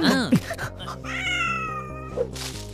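A cat meows up close, a couple of sharp, rising-and-falling cries followed by a longer, drawn-out wailing meow, heard over a faint steady background.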